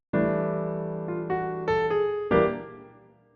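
A brief jazz enclosure phrase of about six sustained instrumental notes, moving up and down around a G before settling on a final ringing tone that fades out.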